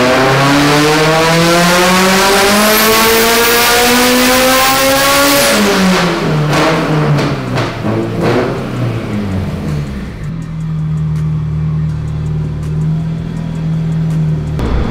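A turbocharged Honda F22C engine revs hard on a dyno, rising steadily to a loud, high-pitched scream before dropping back to a settled idle, with no other sounds over it.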